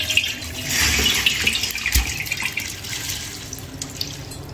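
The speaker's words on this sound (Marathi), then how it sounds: "त्याच्यावर चाळणी ठेवा आणि हे तांदूळ सगळ्या ह्याच्यातलं आता पाणी काढून टाकायचं आहे आपल्याला" Water drains from washed rice through a sieve set over a pot, a steady splashing rush that swells near the start and then settles into a softer, continuous trickle, with no voices.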